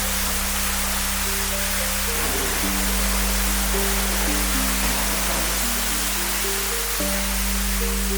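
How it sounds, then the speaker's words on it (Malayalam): A waterfall beside a private pool inside a cottage room in Wayanad gives off a constant, even rush of falling water, with soft melodic music playing over it. "അതോടൊപ്പം തന്നെ വെള്ളച്ചാട്ടം ഉണ്ടെന്നുള്ളതാണ്."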